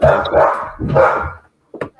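A dog barks several times in quick succession, loud and close, followed by a short pause and then a final yip, with no talk over it.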